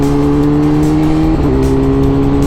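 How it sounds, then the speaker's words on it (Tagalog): A 2020 BMW S1000RR superbike in race mode, its engine holding a loud, steady high-rpm drone with a brief shift in pitch midway, heard up close while riding with no talk. "Parang mas mataas ang RPM netong race mode. Mas aggressive talaga siya."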